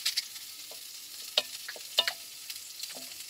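Quiet crackling and hissing of food frying in a pan at a taiga cabin, with scattered pops and a scraping stir now and then.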